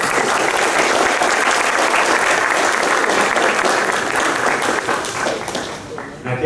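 Sustained audience applause in a hall at a rural land georeferencing presentation, a steady dense wash of many hands clapping that tapers off near the end.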